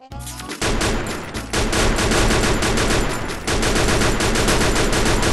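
Rapid automatic gunfire from the video game Free Fire rattles in a loud, dense fusillade that starts after a short pause and continues almost unbroken to the end, with no talking over it.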